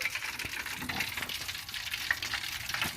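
Skate wax being stirred as it melts in a pot, a continuous soft crackling sizzle with scattered light scraping ticks, steady and close throughout with no voices.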